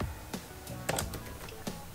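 Keys tapped on a computer keyboard while entering a web search, a few separate clicks at moderate level with quiet room tone between strokes.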